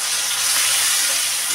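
Chopped onion and garlic fry in a hot pan, a steady close sizzle with bright hiss and no pauses, as they brown for a jackfruit and prawn dish.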